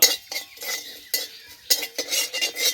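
A spoon stirs and scrapes fried spices in a pan, making quick uneven metallic scratches and clinks in short bursts close by, with no talk.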